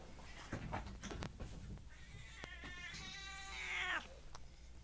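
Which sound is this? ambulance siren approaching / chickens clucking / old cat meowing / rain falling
old cat meowing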